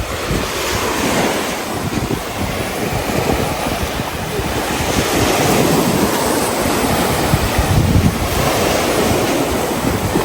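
Ocean waves break and wash continuously on the shore at Lubang Island, a loud, dense roar of surf mixed with gusting wind buffeting the microphone.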